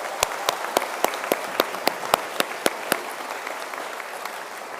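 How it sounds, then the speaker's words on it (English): Applause for the graduating class at a school commencement ceremony, a steady wash of many hands clapping with a few sharp, nearby claps standing out at a regular rhythm, moderately loud and without talk. "Let's give them a round of applause"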